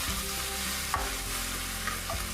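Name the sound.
stir frying tofu and mushrooms in pan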